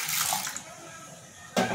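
Water poured onto moong beans in a bowl to soak, a short splashing pour near the start that fades, then a second burst of splashing at the end.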